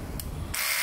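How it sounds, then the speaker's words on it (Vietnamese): An INGCO hammer drill runs in hammer mode with a harsh, buzzing mechanical whir that jumps into a brighter, louder hiss partway through the short burst. "chức năng này đang là cái chức năng khoan búa nè"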